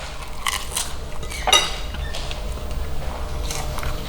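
Food is bitten and chewed close to the mic, with a sharp crunch near the middle amid softer chewing noises over a steady low background hum.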